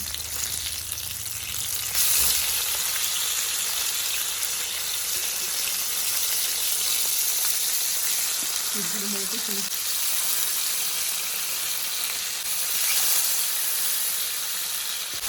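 Fish fry sizzling in hot oil in a pan, a steady, close, bright hiss that runs unbroken throughout, with a couple of brief clatters as the pieces are handled.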